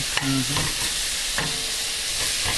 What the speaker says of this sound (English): Okay, so I'm going to let these onions sweat for a few minutes